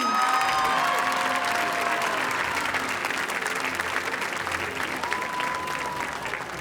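A school debate audience applauds the 2022 Malay debate champions, steady dense clapping from a crowd sustained at even loudness throughout, with faint tonal whistles or feedback on top.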